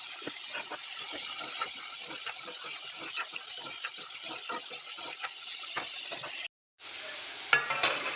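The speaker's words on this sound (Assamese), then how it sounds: "এতিয়া মই বিন আলু ভাজি ল'ম" Beans and potatoes fry in a wok with a steady crackling sizzle and repeated stirring scrapes, broken by a brief silent gap before the frying resumes louder near the end.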